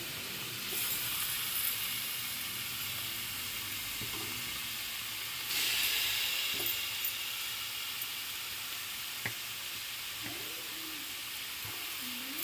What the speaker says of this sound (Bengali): গাজরগুলো দিয়ে ভালো করে নাড়াচাড়া করে নেব। গাজরের ভেতর থেকে যতগুলো জল থাকবে সেগুলো সব বেরিয়ে যাবে।